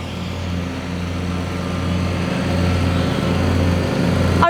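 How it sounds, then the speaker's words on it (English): A ride-on lawnmower circling a field, its steady engine drone humming loud and continuous with a slight rise in level as it loops nearer, no voices over it. "Arthur is driving the lawnmower right now, which is why they're just going round in circles."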